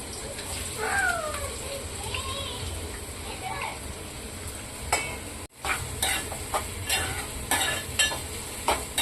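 Onions fry in oil in a pan with a soft, steady sizzle and occasional stirring clatter, while voices talk over it nearby.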